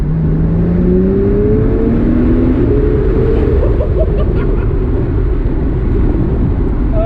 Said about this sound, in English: It's got a 3 litre, 6-cylinder, twin-scroll turbocharged engine